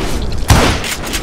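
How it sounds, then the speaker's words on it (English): A sudden heavy burst from a Gatling gun in Call of Juarez Gunslinger, a loud booming report amid dense rattling fire and rumble in a short, close blast. "Kid Curry opened up on me with a goddamn Gatling gun"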